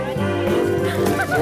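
A pet hen gives loud, goose-like honking calls, drawn out and close, continuing through the whole short moment with a voice in the background.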